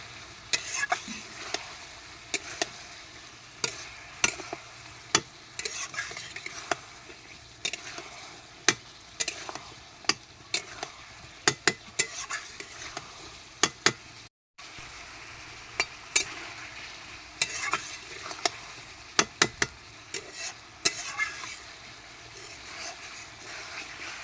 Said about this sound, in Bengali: এবার ভেজে রাখা পটল দিয়ে ভালোভাবে কষিয়ে নেব।